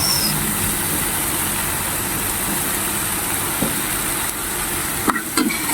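Ring onions stirred and sautéed in a hot pan at home, a steady broadband sizzle running throughout with a few scraping clatters of the spatula near the end.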